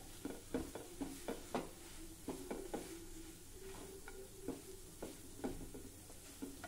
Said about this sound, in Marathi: या पद्धतीने आता हे आपल्याला असं परतत राहायचं आहे